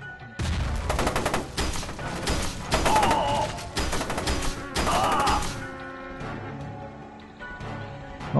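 Rapid bursts of nail gun fire in the shooter game F.E.A.R. 2, loud repeated volleys with short pauses between them and sharp metallic impacts ringing out.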